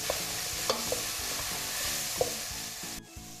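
Tomatoes sizzle steadily in a pan while a utensil stirs them, with a few sharp scrapes and clicks standing out over the continuous frying; near and moderately loud, no talking.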